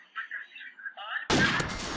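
A single loud sniper rifle shot rings out in Call of Duty 4 multiplayer, a sharp blast with a decaying tail that follows brief quiet game noises.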